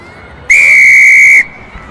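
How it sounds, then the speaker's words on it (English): A referee's whistle at a women's U20 rugby match between England and Wales gives one loud, steady blast of about a second, clear above faint crowd noise. "Loud blast and the whistle."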